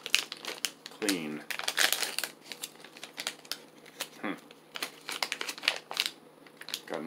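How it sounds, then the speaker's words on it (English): Crinkly plastic of a resealable spearmint chewing gum pouch being handled up close, with bursts of crumpling and rustling across several seconds amid clicks. "Got a nice little resealable pouch."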